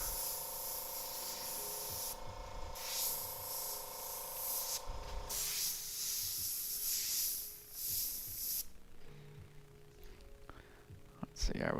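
An airbrush hisses in bursts while spraying paint onto a T-shirt during live graffiti painting, with a steady hiss broken by short pauses and ending in quieter, sparser spraying, close by.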